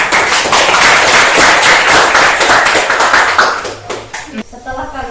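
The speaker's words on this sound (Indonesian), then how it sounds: "Emrenda kasih aplaus dulu untuk temannya." A classroom of students applauds a classmate, dense rapid clapping that stays loud for about four seconds and then thins out into a few scattered claps.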